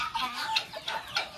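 Chickens clucking over a pigeon pea feed, several birds calling in short repeated bursts at close range with a busy, overlapping farmyard texture.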